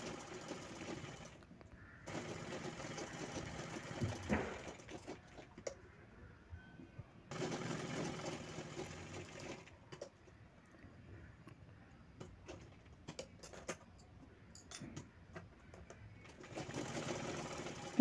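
A sewing machine stitches a folded 1.5-inch piping strip for a homemade mobile holder, running in several bursts of steady whirring separated by quiet pauses, close and alone.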